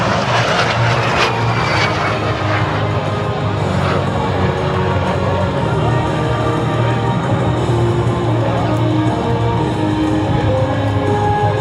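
A de Havilland Vampire jet making a photo pass at an air show roars steadily and loudly throughout, with a broad engine rumble and faint crowd noise underneath.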